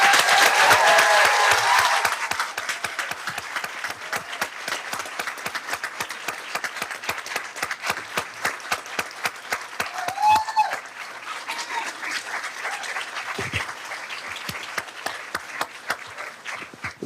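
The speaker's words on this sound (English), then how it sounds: "Round of applause for the students, please." At a school district board meeting, a crowd gives sparse, sustained applause for high school wrestling teams, a burst of cheering opening into scattered individual claps that continue in a small room for many seconds.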